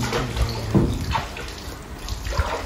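Water is poured and splashed over the face of an ondel-ondel figure during washing, giving a few sloshing gushes and drips over a wet, noisy background.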